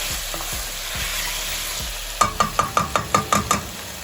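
Chickpea and potato curry stirred in a pan over low heat, starting with soft sizzling and a few light scrapes, then a run of about eight quick, rhythmic spoon clanks against the pan, close and clear.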